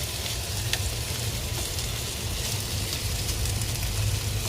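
Baby back ribs shallow frying in a small amount of oil in a pan, a constant close crackling sizzle with faint sporadic pops and a low hum underneath.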